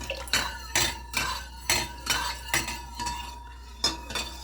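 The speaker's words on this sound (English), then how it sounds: "So I'm just going to go ahead and mix this into this broth." A spoon clinks and scrapes against a pot while a blended mixture is stirred into homemade chicken broth, with a string of sharp, evenly spaced knocks close by and no talking.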